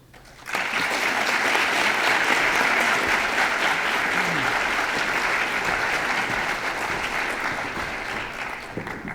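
At an MLK convocation, a large audience gives sustained applause for the 2017 Martin Luther King Jr. Peace and Justice Award recipients; loud, dense clapping swells in quickly, holds steady for several seconds, then tapers slightly.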